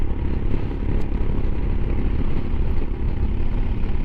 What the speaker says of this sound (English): I'm just listening to me exhaust again,